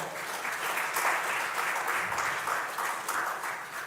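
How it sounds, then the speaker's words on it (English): An audience at a gender programme launch in Nigeria claps to welcome a speaker, a full, sustained round of applause with rhythmic swells, moderately loud, with no speech over it. "With a resounding round of applause, please welcome Ms. Jumoke Olanio."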